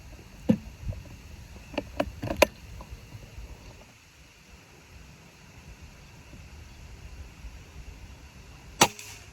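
Single sharp shots from a PCP air rifle, a Yumaja-barrel Bocap Combat, fired at a target; a quick cluster of cracks with faint follow-up clicks early on, then a quiet stretch and one more crisp report near the end.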